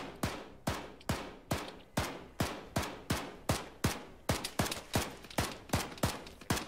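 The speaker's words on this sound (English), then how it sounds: "Firing through that open window right there." Rapid bursts of gunfire in the military shooter game Arma 3, about a dozen sharp loud shots in an uneven steady rhythm, fired from close range with no talking.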